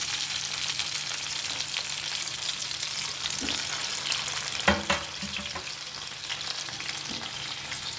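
Half a kilo of native tomatoes sizzle and fry in a pan for tomato pachadi, a steady close hiss with occasional sharper crackles and stirring scrapes partway through, no voices.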